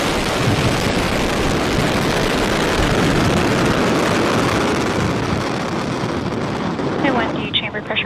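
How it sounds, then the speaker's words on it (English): A SpaceX Falcon 9 rocket roars during ascent after liftoff, a dense, loud, continuous crackling rumble that holds steady and thins slightly near the end, with a faint voice briefly audible over it. "Ignition. And liftoff of Falcon 9."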